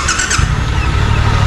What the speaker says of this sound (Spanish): Vamos a escuchar este motor bicilíndrico